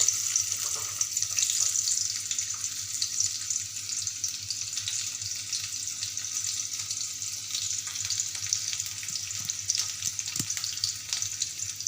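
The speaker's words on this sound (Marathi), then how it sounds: "तेल आपलं छान असं गरम झालं आहे तर मी आता कांदा सोडते" Onion dropped into hot oil in a kadhai for spiced moong dal, a continuous bright sizzle with faint scraping of a spoon, steady throughout and no voices.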